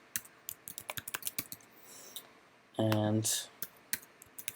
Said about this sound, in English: I'm going to type in a new password